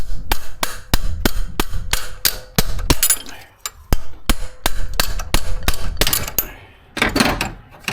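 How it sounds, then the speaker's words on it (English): Repeated sharp metal hammer strikes on the solid-axle swap suspension of a Toyota Tacoma, ringing out in a steady series of loud, close blows with brief pauses and a burst of rattling near the end. "It's a hammer."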